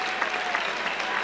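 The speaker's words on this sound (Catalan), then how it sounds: "Fort aplaudiment per ells" An outdoor crowd at a town festival square claps in dense, continuous applause, a close, even patter of many hands.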